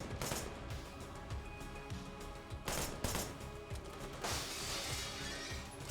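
Gunfire in the Wanted: Dead video game, a dense stream of sharp shots and impacts with short crashing bursts, loud and continuous throughout with no talking.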